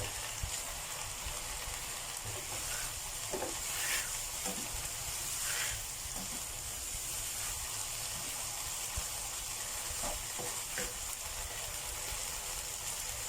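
Pork leg stir-fried with shrimp paste in a pan gives a steady, moderate sizzle and crackle, with occasional scraping stirs and small pops throughout, and no talking.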